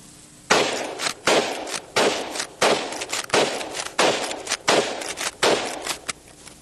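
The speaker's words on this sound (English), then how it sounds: "I'll show you what it will do, although I'm not an expert with the lever action like old Chuck Connors is" Lever-action rifle fired outdoors in a steady series of about nine loud, sharp shots, each about two thirds of a second apart, with brief pauses between them, heard alone without talk.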